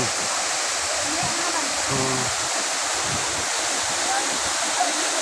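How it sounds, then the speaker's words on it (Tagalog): Waterfall at a swimming spot, a steady broadband roar of falling water filling the whole clip at constant loudness, with faint voices of people playing in the background. "Nandito na kami sa may falls. Ayan ang falls, oh, ang ganda."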